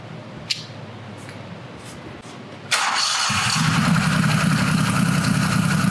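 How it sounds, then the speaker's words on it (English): A mud motor fitted with a newly installed turbo cranks and catches partway through, then settles into a steady, loud idle, close by after a quiet stretch with a few small knocks. "we're at the point where we're going to start the engine"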